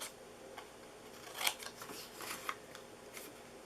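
Scissors snip through card stock for a gift box, a few soft crisp cuts close by over a faint room hiss, with no talking.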